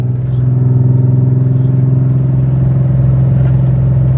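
A VW MK6 fitted with a swapped 3.6 VR6 and 4Motion drivetrain pulling hard, heard as a loud, steady low engine drone with a strong rumbling hum, recorded close from inside the car with no talking.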